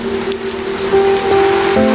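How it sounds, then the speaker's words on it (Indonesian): Steady rain falls on surfaces, a dense continuous hiss of drops with a faint tonal hum running underneath and no voices. "Hujan turun."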